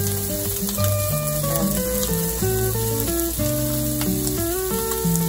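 Garlic frying in oil in a home kitchen, giving a steady, close sizzle that runs the whole time beneath loud background music.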